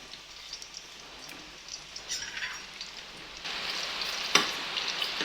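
Quiet sizzling and crackling of onion frying in oil, growing busier and louder toward the end, with a sharp pop near the finish.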